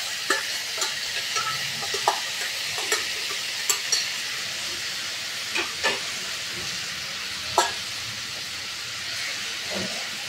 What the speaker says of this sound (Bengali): একটু নেড়ে নিই যাতে পেঁয়াজটা নিচ থেকে পুড়ে না যায়